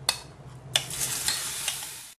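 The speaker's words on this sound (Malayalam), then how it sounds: "ഇനി അടുത്തതായിട്ട് അതേ എണ്ണയിൽ നമ്മൾ ചതച്ച് വെച്ചേക്കുന്ന ചെറിയ ഉള്ളി, വറ്റൽമുളക്, കരിവേപ്പില, ഉപ്പ് ഇതെല്ലാം കൂടി ഒന്ന് ചേർത്തെടുക്കാം." Crushed shallots, dried red chillies, curry leaves and salt hit hot oil used for frying dried prawns, giving a bright sizzle with several sharp stirring scrapes and bursts, close and without talk.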